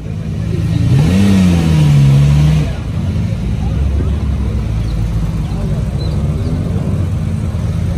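A rare Lamborghini Miura SP engine revs once with a rising then steady tone before settling into a continuous idle rumble, heard nearby outdoors.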